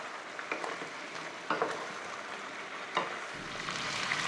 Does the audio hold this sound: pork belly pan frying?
yes